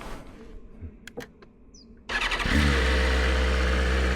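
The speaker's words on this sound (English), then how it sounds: "Does the bike start up correctly? I don't know. Let's start it up." A motorcycle engine starts: quiet clicks and fiddling, then the engine catches partway through and settles into a loud, steady idle rumble close by.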